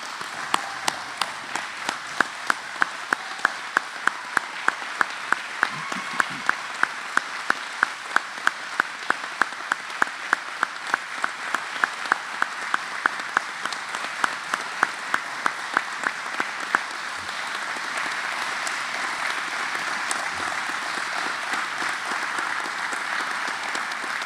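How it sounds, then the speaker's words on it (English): Graduation ceremony audience applauding, a steady wash of many hands clapping that fills the room for a long stretch and holds at an even, fairly loud level before thinning slightly near the end. "Please stand and give them a round of applause."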